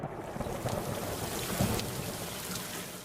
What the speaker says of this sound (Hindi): आसमान में बादल गरजने लगे और कुछ पलों में ही बारिश शुरू हो गई।